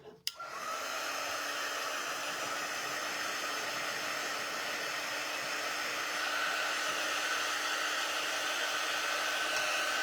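A hair dryer blows steadily to dry red paint on a snowman window shelf sitter craft, a continuous close airy whoosh that starts with a click and then runs unbroken.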